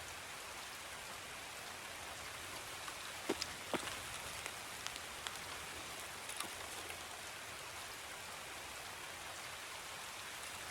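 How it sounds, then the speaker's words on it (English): Steady rain in the video game Escape from Tarkov patters continuously, a dense even hiss with a few sharper drips and taps near the start. "And we got a lot of rain."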